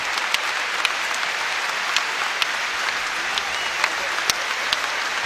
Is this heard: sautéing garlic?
no